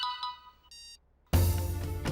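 A mobile phone ringtone plays in short electronic tones and then switches to a louder, fuller ringing melody that carries on to the end, with no talking.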